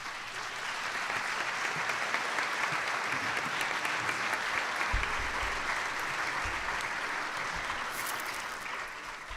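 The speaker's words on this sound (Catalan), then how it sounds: "vos demane a tots que la rebem en un fort aplaudiment" Sustained applause from an audience at a 9 d'Octubre commemoration event in Alcoi, welcoming a speaker to the stage; dense, steady clapping without pause, with brief low rumbles partway through.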